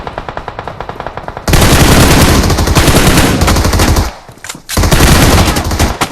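Gunfire in the mobile battle royale PUBG Mobile sounds as rapid, loud, close bursts of repeated shots, with a brief lull before the firing resumes.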